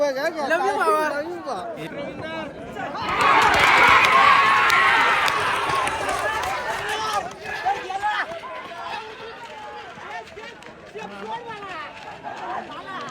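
Crowd chatter at a bullock cart race ground at Anjap, with many voices babbling and calling over one another and swelling into louder cheering for a few seconds before settling back into steady hubbub.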